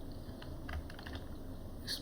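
Typing on a computer keyboard makes a short, quiet run of soft key clicks at an uneven pace.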